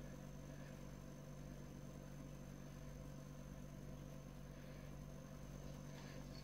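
Engel fridge compressor running after starting its cooling cycle, a steady low hum with a fixed tonal whine, faint and constant, with no voices.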